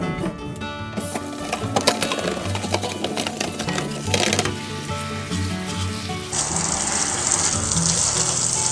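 Cucumbers are rinsed under a running kitchen tap, a dense, steady splashing rush of water that carries on throughout, close and fairly loud, with clattering handling noises mixed in.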